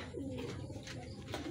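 A racing pigeon coos softly and steadily at the loft during a Mabitac, Laguna training race, a low throaty murmur under faint background ambience.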